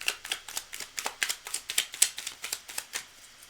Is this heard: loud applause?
no